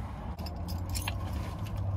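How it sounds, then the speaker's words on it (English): Keys jangle in a series of light metallic clinks and rattles, with a low vehicle hum running steadily underneath. "Finally found my keys."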